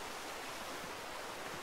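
A waterfall in the video game Metal Gear Solid 4 gives a steady, hissing rush of falling water, broad and even throughout, quiet, with no voices over it.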